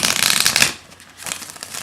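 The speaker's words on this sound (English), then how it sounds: "Okay, so let's shuffle." Deck of playing cards being shuffled, a close brisk riffling burst followed by a second softer riffle after a short pause.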